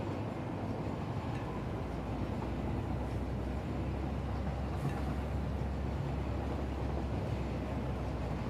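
Riding aboard a train in Satisfactory: a steady low rumble with rolling rail noise and faint periodic thumps, continuous and even throughout, with no voices.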